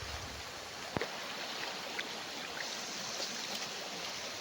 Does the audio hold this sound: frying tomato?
no